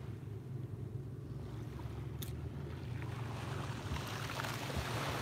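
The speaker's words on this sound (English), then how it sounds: "the waves are still pretty small, but you can still hear them" Small ocean waves lapping gently on a calm morning, a steady soft wash with faint wind noise and a low continuous rumble, no talking.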